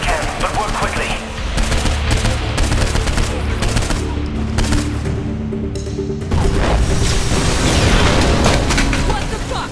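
Heavy bombing of a compound in the video game Saints Row IV, a loud dense barrage of rapid blasts and gunfire-like bursts rumbling continuously throughout, with voices talking over it.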